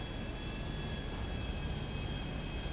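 A constant whirring engine roar with a thin high whine over it, steady and unbroken, a helicopter hovering nearby in Grand Theft Auto multiplayer.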